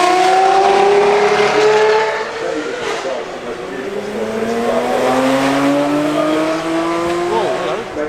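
A 2019 racing car styled on a 1969 Le Mans racer climbs the Goodwood Festival of Speed hill climb, its engine loud and close, with several rising gear-change sweeps and a brief dip in level partway through.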